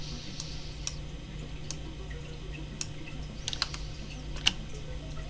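Quick, light keystrokes on a computer keyboard during 3D modeling work in Blender, scattered taps and clicks with short pauses, close and fairly faint against a quiet room hum.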